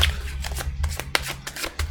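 Tarot cards being shuffled by hand in a series of quick, crisp riffling bursts with short pauses between them, close and clear over a faint low hum.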